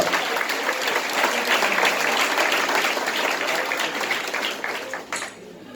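A congregation applauds in a French-speaking church service, steady dense clapping from many hands that holds for several seconds, then fades out abruptly at the end.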